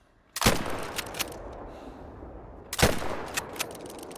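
Two sharp rifle shots from a pump-action rifle in a hunting game, each a crisp crack with a short echoing tail, spaced a couple of seconds apart over quiet ambience.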